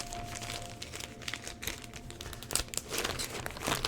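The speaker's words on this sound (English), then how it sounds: "So both of these are going to go into this zip top bag." A plastic zip-top bag crinkles and rustles close up as documents slide into it, in irregular crackling bursts with no voices.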